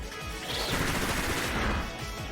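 Bullet Seed attack in Pokemon Scarlet and Violet, a rapid burst of gunfire-like impacts with a whooshing sweep, loud and sustained for about two seconds.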